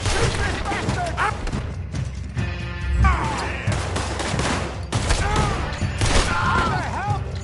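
Video game shootout gunfire in a western setting: repeated loud gunshots and bursts crack over a busy mix of shouting voices and background game sound.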